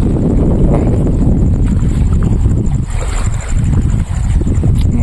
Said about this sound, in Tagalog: napakahangin ngayon